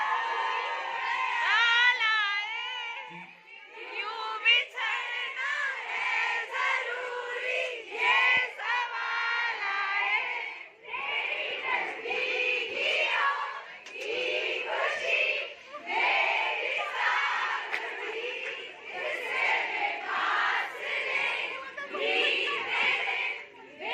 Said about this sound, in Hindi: प्लीज चिल्लाए नहीं, प्लीज पास वाली क्लास होने दें।